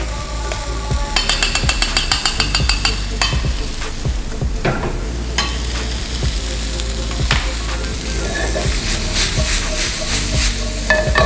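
Red onion caramelizes in a hot pan with a loud, dense sizzle, while a spoon stirs and scrapes in bursts of rhythmic clatter against the metal.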